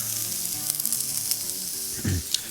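Onions and mushrooms seasoned with barbecue beef rub sizzle steadily in a hot pan, with a utensil stirring and scraping through them near the end.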